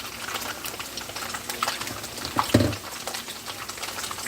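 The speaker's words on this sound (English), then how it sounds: "See how the tofu is frying up there? It's frying faster now." Tofu frying in a pan with coconut milk gives off a faint, steady bubbling sizzle, with a brief louder clunk partway through.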